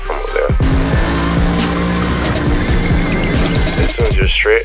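Race car lapping the Bathurst Mountain circuit, its engine loud and close as it revs through gear changes. Tires squeal on the corners, and the engine note climbs again as the car accelerates away.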